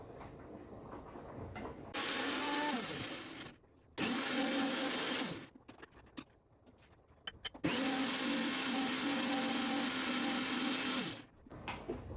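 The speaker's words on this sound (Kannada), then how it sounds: "ಇಲ್ಲೊಂದು ಸ್ವಲ್ಪ ಮಿಕ್ಸಿ ಜಾರಿಗೆ ತೆಂಗಿನಕಾಯಿ ತುರಿನೂ ಹಾಕ್ಕೊಂಡಿದ್ದೀನಿ ಇವಾಗ ಇದನ್ನು ರುಬ್ಕೊಬರ್ತೀನಿ" A mixer grinder grinding grated coconut whirs loudly in several bursts, stopping and starting with short pauses between runs.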